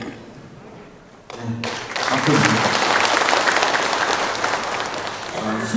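Applause breaks out for a guest arriving at a memorial ceremony for civilian victims of the Korean War, a sudden burst of dense clapping from a crowd that carries on steadily after a brief quieter stretch with voices.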